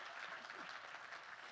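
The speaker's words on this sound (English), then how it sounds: "yeah, you can clap for that." An audience at a volunteer awards ceremony claps in a steady wash of applause, fairly faint and even throughout.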